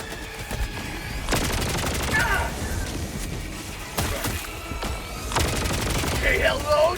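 Bursts of rapid gunfire in the shooter game Helldivers 2 from a weapon prone to overheating, loud volleys with short gaps and crackling impacts, mixed with game effects and a player's voice.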